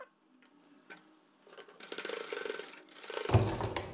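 Sewing machine stitching a straight seam along double-folded lace, a rapid mechanical whirring that starts faint and intermittent, then runs steadily louder in the second half with a heavier thump near the end.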